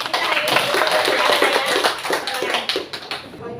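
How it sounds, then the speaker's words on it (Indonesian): Audience clapping at a school dissemination session, a dense burst of many hands applauding nearby that tapers off toward the end, with a voice speaking over it. "berikan aplaus dulu buat pemateri kita hari ini"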